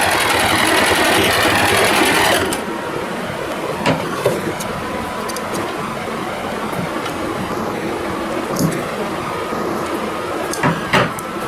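A sewing machine stitches a lehnga for a deity's poshak, a steady whirring run that stops after about two seconds, followed by softer handling noises and light clicks.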